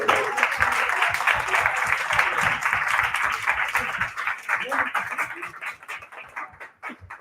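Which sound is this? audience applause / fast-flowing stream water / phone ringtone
audience applause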